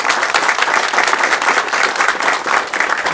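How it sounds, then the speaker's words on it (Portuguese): A crowd at a health centre inauguration gives loud, sustained applause: many hands clapping in a dense, continuous wash with faint rhythmic pulses, filling the whole stretch. "Isso não merece uma salva de palmas também"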